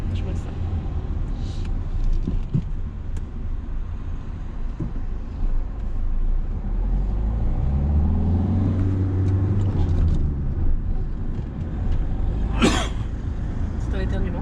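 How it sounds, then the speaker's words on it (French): A single sharp cough bursts out near the end over a steady car-interior hum during a mock driving test, with people talking around it. "non, j'ai toussé"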